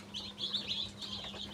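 Newly hatched tiger-breed chicks just taken out of a hatcher chirp in a continuous cluster of high, thin peeps, close and fairly faint, with no talking.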